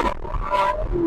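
Ferrari 458 V8 engine roaring under full throttle, a loud, close, rising and falling growl over about a second.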